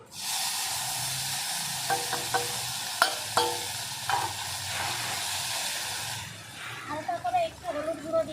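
Ginger, green chilli and cumin paste frying in a pan, a broad hissing sizzle with a few stirring clinks, fading near the end as a voice speaks over it.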